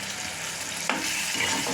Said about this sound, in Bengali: টমেটোর কুচিগুলো যেটা রেখেছিলাম সেই টমেটোর কুচিগুলো দিয়ে দিলাম